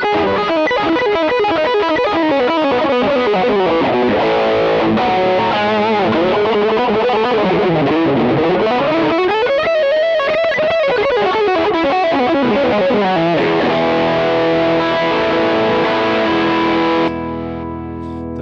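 A Valley Arts California Pro custom electric guitar plays through a distortion effect, with a continuous, loud, sustained melodic run of bends and held notes that ends on a ringing chord.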